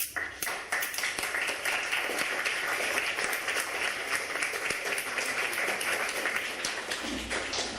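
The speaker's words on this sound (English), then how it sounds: "just a round of applause to you guys" Audience applause at a Model UN conference session, many hands clapping in a steady, fairly close round that continues for several seconds before tapering off.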